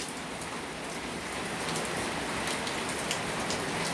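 Steady monsoon rain pours down in a dense, hissing wash of drops, continuous and fairly close, with no voices.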